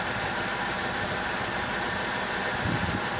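A Mercedes CLK 230 Kompressor with an M111 engine idles roughly, a steady mid-pitched engine drone with faint irregular low pops and a slight thump near the end, no voices.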